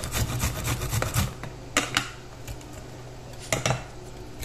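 Hand grating against a metal grater set in a bowl, in quick scraping strokes during the first second and a half, followed by a few separate rasping scrapes and knocks, close and fairly loud.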